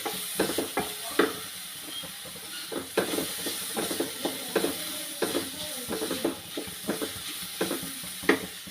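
Onion fries with added ginger and garlic for an egg roast. A continuous hiss and sizzle runs under regular, rhythmic spatula scrapes and taps against the pan, close and fairly loud.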